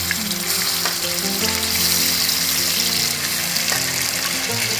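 A pan of crab curry bubbles and sizzles steadily, a constant close-up hiss and crackle with no talking.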